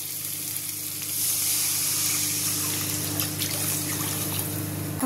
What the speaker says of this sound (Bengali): মশলাটা কষে গেছে, এবার এতে দিয়ে দেবো জল।